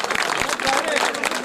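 Audience applause at a mushaira, an Urdu poetry gathering in Jalgaon, steady and dense crowd clapping filling the whole moment at moderate loudness.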